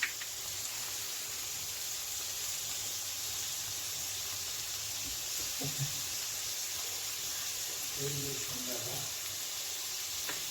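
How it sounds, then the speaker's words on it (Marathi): Chopped onions with a little salt sautéing in a pan, a soft steady sizzle and hiss throughout, with faint clinks of utensils here and there near the end. "कांदा जरा 1-2 मिनटं थोडा बावळायला दिला"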